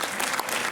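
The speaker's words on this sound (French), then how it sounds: "donc on peut s'applaudir très fort." A cinema audience applauding at a festival screening, dense steady clapping heard briefly and fairly close.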